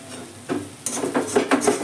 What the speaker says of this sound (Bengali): মশলার সঙ্গে এবার মাছটাকে আমি খুব ভালো করে নেড়ে নেবো